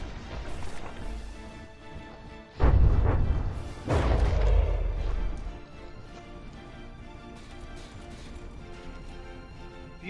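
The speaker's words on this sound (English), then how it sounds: "it is back in working condition, firing away" An artillery turret firing in the From the Depths vehicle combat game, two heavy booming blasts a little over a second apart, the second rumbling on before fading into a quieter background hum.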